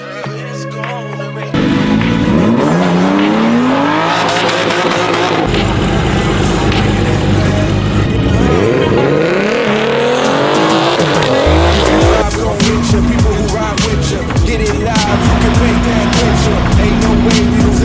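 Drift cars at an Xtrem Drift Week Europe event in Andorra, with loud revving engines and sustained tire squeal sweeping past, nearby and continuous with repeated rising and falling passes.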